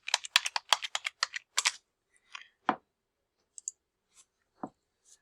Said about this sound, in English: then I'm going to type the student's name in there